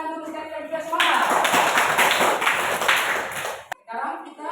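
Students in a classroom during a teaching practice session clap together in a dense burst of roughly three seconds, with talk before and after.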